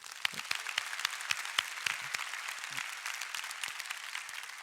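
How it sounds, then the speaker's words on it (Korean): A church congregation at an anniversary revival service clapping for the young people, a fairly soft but steady patter of many hands with distinct sharp claps poking through, sustained from start to finish. "우리 어른들이 청년들에게 박수 한번 해줘야 돼."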